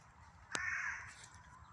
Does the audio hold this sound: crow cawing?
yes